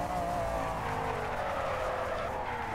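A race car in Project Cars launches hard in second gear, its engine roaring close and loud with tyre squeal and a rising, strained whine.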